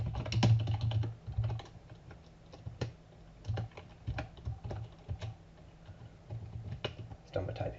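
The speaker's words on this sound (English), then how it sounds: "every Java application has to have a main method, which is done by typing this in" Fingers typing on a computer keyboard while entering Java code, with irregular clicking keystrokes coming in quick clusters and pauses, close and fairly soft, with a voice speaking faintly at times.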